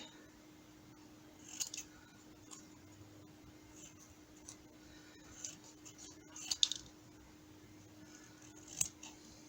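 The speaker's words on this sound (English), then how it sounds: "I'm going to cut this down a little bit more, I think." Scissors snip craft embellishment in a few sparse, crisp cuts, close and quiet against a faint steady hum, with no speech.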